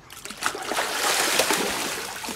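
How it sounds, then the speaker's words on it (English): Water splashes in a backyard pool as children swim, a close burst of sloshing and spattering that swells and fades over a couple of seconds. "Splashed so much"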